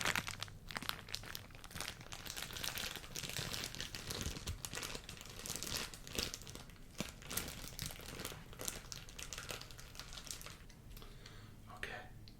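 A new camera bag crinkles and rustles as it is carefully handled up close, with dense crackly crumpling and soft shuffling continuing throughout.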